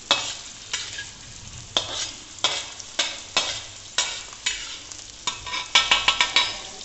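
Ingredients frying in a pan before water goes in for Maggi noodles: a continuous sizzle under repeated spatula scrapes and knocks, falling into a quickening rhythm toward the end, close and fairly loud, with no talking.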